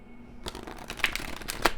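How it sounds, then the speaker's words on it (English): A large, chunky tarot deck with trimmed borders being shuffled, a burst of crisp riffling card flutters starting after a brief pause and continuing in quick ruffles, close and fairly quiet. "they're easy to shuffle."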